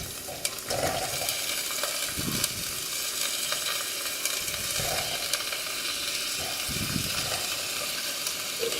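Carrots and cauliflower sizzle steadily in a pan, a loud continuous frying hiss with occasional scraping stirs and no voices.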